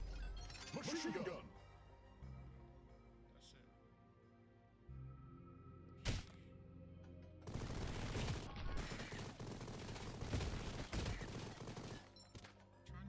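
Bursts of machine gun fire from the game Mighty Goose, dense rapid shots clustered in the second half, with a sharp single blast earlier and quieter game sounds between; a voice speaks over parts of it.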